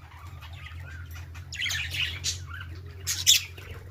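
Pet budgerigars squawk, chirp and flap their wings up close as they fly to a hand to feed, with sharp bursts of calls and wingbeats over a low steady hum.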